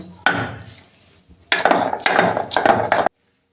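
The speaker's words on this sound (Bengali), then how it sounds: "এবার জলটাকে ঝরিয়ে নেব আর রসুন আর তিনটে কাঁচা লঙ্কা আমি একসাথে বেটে নেব" Garlic and green chillies are ground together while cooking chilli cauliflower, heard as a short knock followed by a burst of rough scraping, grinding strokes. The sound is close and fairly loud, with no talking.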